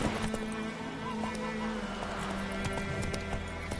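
Rapid clip-clop of Roach the horse's hooves galloping in The Witcher 3, a steady drumming over game music and ambience, with a brief whinny and a voice talking over it.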